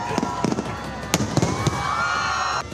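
A New Year's fireworks display over a beach at midnight crackles and pops in scattered bursts against a constant wash of crowd and surf noise, with faint voices mixed in.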